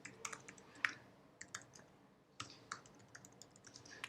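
Keys clatter on a computer keyboard as an email address is typed into a Microsoft 365 setup form, a scatter of light, close clicks in short irregular bursts with pauses in a quiet room.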